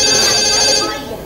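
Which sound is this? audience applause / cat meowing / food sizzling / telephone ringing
telephone ringing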